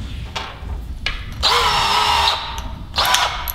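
A power drill boring holes into a wooden toboggan board, heard as two close, loud whirring runs: a long steady burst with a shifting pitch, then a shorter one, separated by low background rumble.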